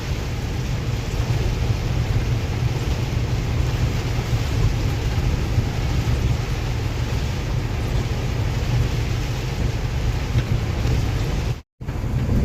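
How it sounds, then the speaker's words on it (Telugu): Sudden heavy rain on a road trip toward Kannur, Kerala, a loud unbroken roar of downpour with low rumbling vehicle noise underneath, steady throughout before a brief cut near the end. "వాన సడన్గా ఫుల్ హెవీగా వస్తుంది"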